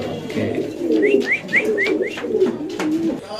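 Pigeons at a pigeon market, including black Spanish pigeons, give repeated soft, throaty coos in a steady rhythm, with a few short rising chirps over the crowd's background murmur.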